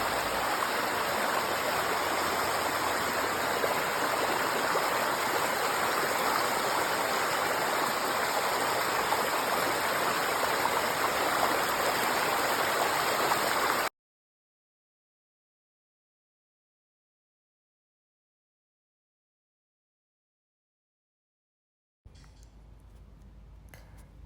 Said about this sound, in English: See, the sound of the water is so relaxing.